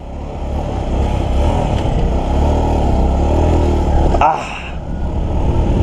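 Suzuki GD110 motorcycle engine running steadily close by, a continuous low rumble that dips briefly near the end before resuming.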